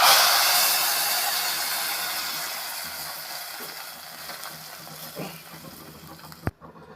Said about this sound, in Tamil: சீரகம் கருவேப்பிலை இப்போ பார்த்தீங்கன்னாக்கா நான் தாளிப்பு கொடுத்துட்றேன்